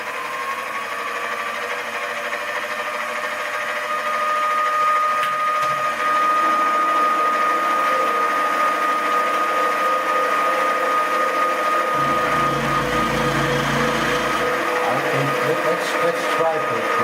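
A small milling machine cuts a boring bar, the motor humming steadily with a tonal whine and a low grinding cut that grows heavier midway, close up with no talk.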